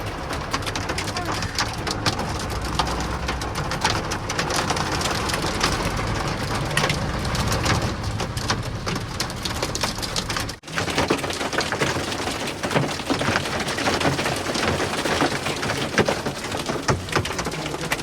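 Heavy hail and rain beat down steadily and loudly throughout, a dense continuous pattering roar with a brief dip near the middle, while voices talk faintly underneath.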